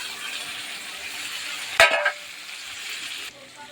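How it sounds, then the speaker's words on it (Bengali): Steady hiss of frying oil, broken by one sharp clatter and a louder sizzle as salt-and-turmeric-coated prawns drop in, then the sizzle settles and quietens. "চিংড়ি মাছগুলো নুন হলুদ মাখানো আছে দিয়ে দিচ্ছি।"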